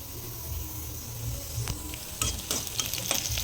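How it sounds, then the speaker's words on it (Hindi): Okra being tempered in hot oil, sizzling and frying continuously, with stirring scrapes and clatter from a utensil near the end. "तड़का हो रहा है भिंडी का।"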